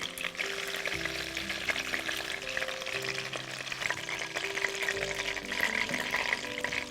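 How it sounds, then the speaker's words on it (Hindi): Chicken pieces sizzle in hot oil for chicken pasande, a steady, dense frying hiss with a faint low hum underneath and no talking. "अब देखिए ये फ्राई हो गए हैं"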